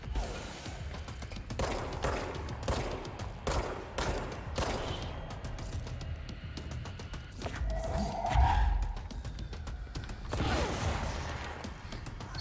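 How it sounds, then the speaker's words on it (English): Bursts of gunfire aimed at the player in a video game, sharp repeated shots in irregular volleys across the scene, with mechanical clanks and a brief whooshing effect near the middle. "Somebody else is shooting me."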